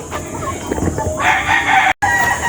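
A Boston Roundhead fighting cock crows loudly and close by, one long strained call rising after a few clucks, briefly cut off near the end.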